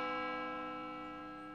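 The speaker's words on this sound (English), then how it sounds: "The bells of the city!" Cartoon city bells ring with a sustained, resonant metallic tone that slowly decays, steady and fairly soft, with no voices over it.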